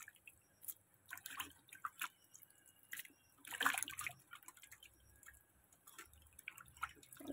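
Water dripping and splashing in irregular bursts as meat is washed outdoors, faint and close, with one louder splash midway.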